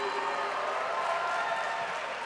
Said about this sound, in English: Can y'all give yourselves a round of applause